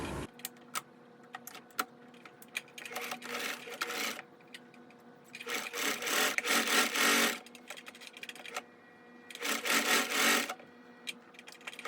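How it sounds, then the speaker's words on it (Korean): An electric sewing machine stitches a hanbok jeogori sleeve to the body in several quiet bursts of rapid needle chatter, separated by pauses filled with soft fabric handling and clicks. "소매는 몸판에 연결을 해서 먼저 박음질을 한 후에 몸판을 박음질 하겠습니다"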